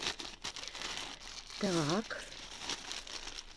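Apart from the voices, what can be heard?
unpacking a large plastic parcel bag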